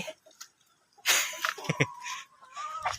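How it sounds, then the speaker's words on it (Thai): Laying hens in a coop cluck close by in short, irregular bursts, with one drawn-out cackle rising among quieter murmurs from the flock. "อันนี้เป็นกรงไก่ไข่"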